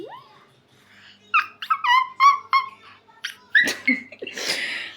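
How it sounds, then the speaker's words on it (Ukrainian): Short, bright whistled notes in a quick run, warbling up and down, followed by breathy hisses and sharp bursts, with no talking. "чого ти свистиш?"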